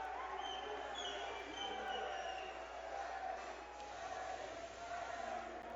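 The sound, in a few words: crowd cheering at an MMA fight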